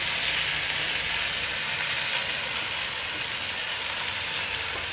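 Sour leaves dropped into a pan of fried broken fish pieces set up a steady, close sizzle and hiss of frying oil that runs unbroken throughout.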